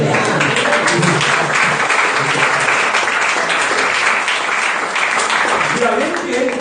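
A church congregation bursts into sustained, loud applause during a worship service, dense clapping filling the space with a few voices rising through it.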